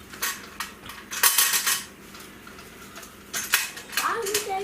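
Metal clanks and clattering scrapes ring out as ribs are lifted from a can cooker, with sharp bursts of cookware and utensil noise close by and a faint voice near the end.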